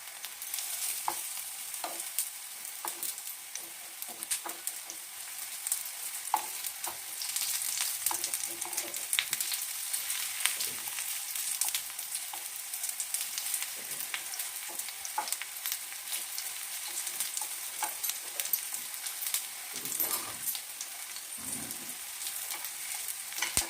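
Ivy gourd (kunduri) fries over a medium flame with a continuous, fairly quiet hissing sizzle full of fine crackles. A few soft stirring sounds drift through, and no one speaks.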